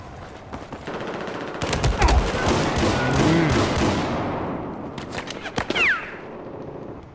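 Dense bursts of automatic gunfire in a Battlefield 4 team deathmatch on Operation Locker, loud and close, shots overlapping into a rattling stream with a few sharper single cracks near the end, no talk.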